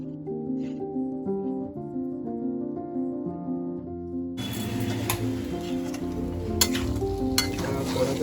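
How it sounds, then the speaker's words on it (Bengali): Marinated green chicken hits hot oil in a wok with whole chillies, bay leaves, cardamom, cloves, cinnamon and peppercorns, bursting into a loud, steady sizzle with crackles after a stretch of music. "দিয়ে দিচ্ছি তেল, তার সাথে দিলাম গোটা লঙ্কা, তেজপাতা, এলাচ, লবঙ্গ, দারুচিনি আর গোলমরিচ। এবার দিয়ে দিলাম ম্যারিনেশন করা"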